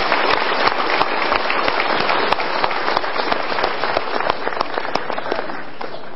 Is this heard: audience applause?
yes